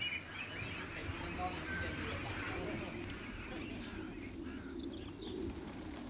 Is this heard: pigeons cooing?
yes